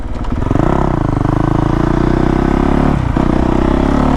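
A 2019 Honda CRF450R dirt bike roars loud and close while being ridden, its engine note holding steady, rising briefly, then dipping near the end as the rider shifts gear.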